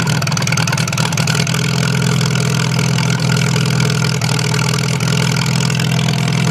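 A Farmall tractor engine idles steadily while warming up after a frozen transmission, a loud, close, even low chug that holds without change.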